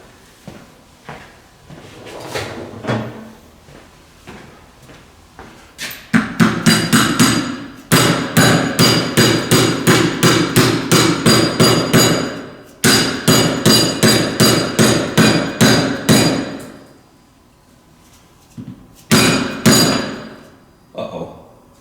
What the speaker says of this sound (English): Grab my dead blow hammer.